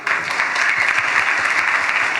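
A church congregation claps for children during a worship service, a dense, steady burst of many hands that stays loud and even throughout, with no talk over it.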